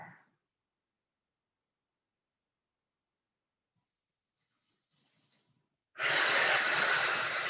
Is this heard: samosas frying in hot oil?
no